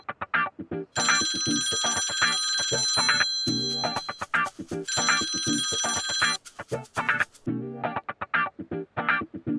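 A phone rings on a call with a bright, repeating electronic ringtone in two long chiming bursts, fairly loud and close, over a busy background of rhythmic voices or music.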